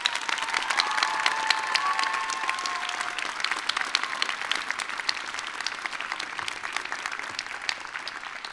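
A large audience at a Sterling Scholar scholarship ceremony claps steadily, a dense rattle of many hands that stays loud and full from start to finish, with faint crowd murmur underneath.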